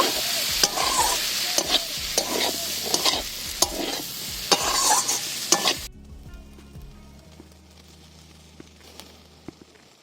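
Meat pieces and fried egg are stirred in a hot wok for fried rice, rhythmic scraping strokes over a steady sizzle for about six seconds before the frying drops to a faint hum with occasional light clinks.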